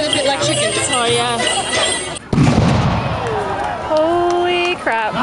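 A cannon fires at a medieval festival, one loud deep boom cutting through the middle of the clip, with crowd noise and voices all around before and after the blast.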